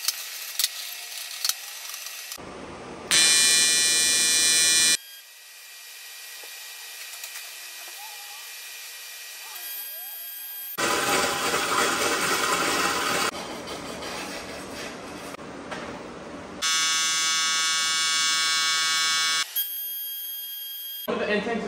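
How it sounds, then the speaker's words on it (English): Aluminum intercooler end tank being welded in bursts, a steady buzzing, hissing arc that starts and stops several times with quiet gaps between, close and fairly loud. "go ahead and start welding this out"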